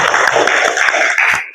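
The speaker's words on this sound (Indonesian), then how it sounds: "Beri tepuk tangan untuk kita semua." Students applauding in a high school classroom, a short burst of close, lively clapping from a group that fades out after about a second and a half.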